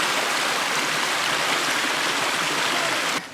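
Creek water rushes steadily at a river crossing along a Malibu hike to a waterfall, a loud, continuous close-up flow with no talking, dropping off slightly at the very end.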